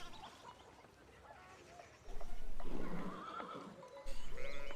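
A horse whinnies loudly in the medieval video game Pentiment, its hooves clip-clopping nearby, with faint background ambience beforehand.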